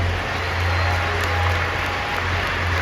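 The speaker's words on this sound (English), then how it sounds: "Clap it up for everybody that was in that line." Crowd at a business pitch competition event clapping for the participants, a dense, even wash of applause filling the room and holding steady without any voices.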